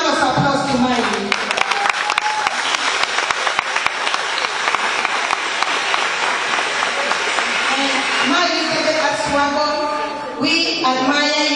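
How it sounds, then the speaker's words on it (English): Sustained applause from a crowd at a celebration of life, dense clapping held steady for several seconds while a voice speaks over it, tapering near the end. "Please give a round of applause to Miley."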